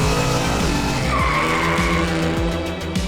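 A 1969 Hemi Road Runner drag racing, its tires squealing in a loud, sustained screech over a roaring engine with rapid, rhythmic pulsing, up close and unbroken for the whole stretch.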